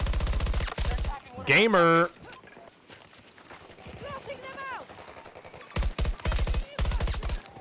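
Rapid automatic fire from an AEK-971 rifle in Battlefield 2042 comes in loud bursts at the start and end, with a voice and in-game effects in between.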